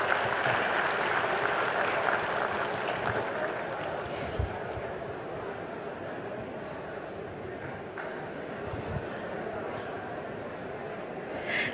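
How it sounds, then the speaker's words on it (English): An audience applauds steadily, with the clapping gradually fading but continuing throughout. "Let's give a big round of applause for Mr. Umagine"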